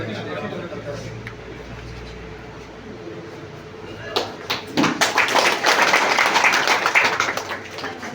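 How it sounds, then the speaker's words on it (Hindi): At a community rally, a quiet room suddenly breaks into loud, sustained applause from a large crowd, with heavy clapping that swells and holds for several seconds. "जोरदार ताली, पूरा जोरदार ताली।"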